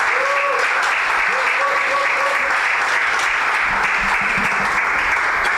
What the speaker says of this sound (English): With a resounding round of applause, let's welcome Yankah to join me